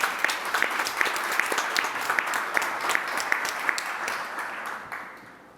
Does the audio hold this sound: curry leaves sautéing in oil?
no